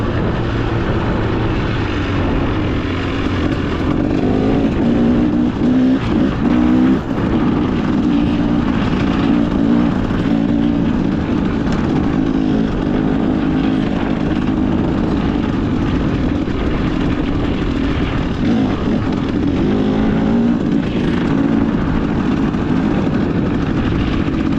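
Dirt bike riding on a 2025 KTM-style XCW 300 two-stroke, a steady, loud engine drone with shifting revs throughout, close-up and continuous with no talk.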